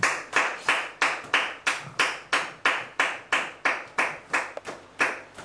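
A church congregation claps in praise in a steady, even rhythm, about three claps every second, loud and sharp, with no other sound between the claps.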